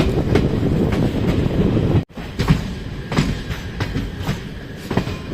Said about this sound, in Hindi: और हम पहुंच रहे हैं रेवाड़ी जंक्शन रेलवे स्टेशन पर।